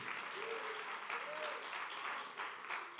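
Church congregation applauding during a Spanish-language evening worship service, a steady dense wash of clapping through the whole stretch, with voices mixed in underneath.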